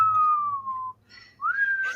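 A person whistles two clear tones, a long slightly falling note then a short rising one after a brief gap, close and loud.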